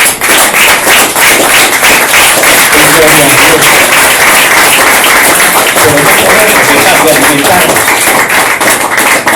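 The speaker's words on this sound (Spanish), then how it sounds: "Dele a Dios un aplauso" A church congregation claps loudly and steadily for several seconds, a dense wash of overlapping hand claps that fills the space, with voices mixed in beneath the clapping.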